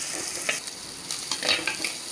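Peeled garlic cloves, about fifteen, sautéed with onion and stirred in a pan for a village-style potato and brinjal kara kuzhambu, giving a steady close sizzle with a few scraping stirs and no voices.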